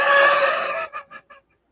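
A chicken clucks: one drawn-out, loud squawk followed by three short, quickening clucks that trail off into silence.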